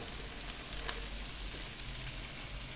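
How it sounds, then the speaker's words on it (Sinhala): Kale leaves sizzle in a frying pan with garlic, a faint, even crackle that holds steady throughout with a few small pops. "ඊට පස්සේ මම කේල් කොළ ටික එකතු කරගන්නවා"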